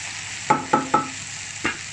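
Okra fries in a pan with turmeric while a spatula strikes and scrapes it in three quick strokes and then one more, each stroke standing out over a low background sizzle.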